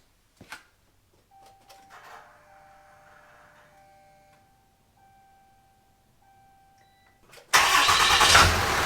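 A 4th gen Cummins diesel truck: faint clicks and a thin steady dash chime give way to the engine cranking and catching loudly near the end, then a close, heavy, rough diesel rumble.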